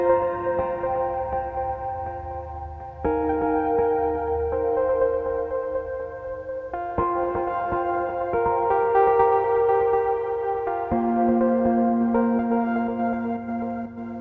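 Multiphonics CV-1 synth patch with added delay and reverb, layered with keys, plays a sequence of sustained chords and notes that change every few seconds, warm and continuous with no voices.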